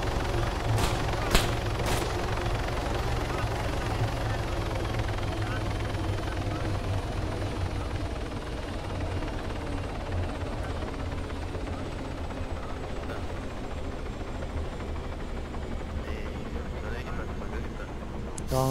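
Helicopter rotor and engine noise from the Arma 3 game, a steady loud drone through the whole stretch, with brief sharp bursts early on that could be gunfire and voices talking over it.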